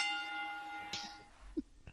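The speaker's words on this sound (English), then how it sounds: "let's hit the damn bell and get into the news" A single bell rings with a sustained metallic tone that fades out, followed by a soft thump, fairly quiet and with no voices.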